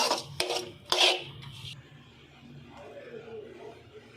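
Cooked rice is stirred into lemon rice seasoning in a pan with a spoon, giving a few short scraping rubs at the start before fading into quiet background hum.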